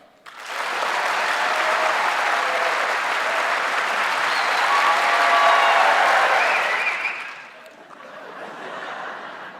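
A live audience at a public radio event claps loudly and steadily for about six seconds, with a few chuckles mixed in, then the applause dips and swells briefly again before fading.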